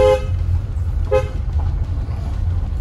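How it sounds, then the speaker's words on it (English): A car horn honks twice, short and loud, from a family's vehicle at the end of a long national park road trip, over the steady low rumble of the running engine. "Honk the horn."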